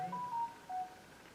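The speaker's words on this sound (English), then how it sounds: "that is just messages on my phone" A phone message notification: two short soft electronic tones, a longer beep then a brief second one, faint against a quiet room.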